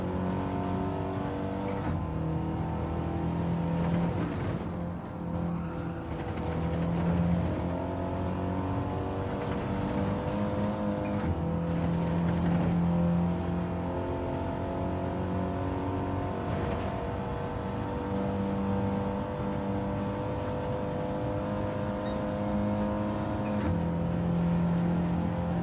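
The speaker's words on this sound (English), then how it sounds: "Car behind's revving the shit out of it." Race car engines in Gran Turismo 7 drone and rev steadily throughout, with several overlapping engine tones rising and falling as cars run close together, loud and continuous with no talk.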